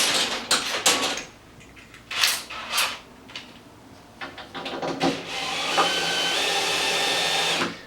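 A screw is driven into brick with a power driver, bursts of handling and clatter followed by a sustained whirring drive near the end, close and fairly loud.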